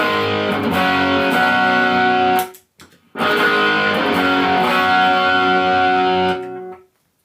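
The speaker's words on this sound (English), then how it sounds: "the Tubescreamer sounds like this" Electric guitar through a Tubescreamer overdrive pedal rings out in two long sustained chords, warm and gritty, with a brief pause between them and a fading tail.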